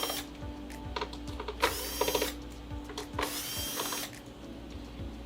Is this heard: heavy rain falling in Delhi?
no